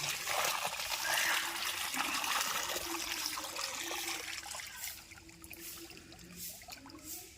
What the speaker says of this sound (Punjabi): ਅੱਜ ਸਾਰੇ ਬੂਟਿਆਂ ਨੂੰ ਪਾਣੀ ਪਾਉਣਾ ਆਪਾਂ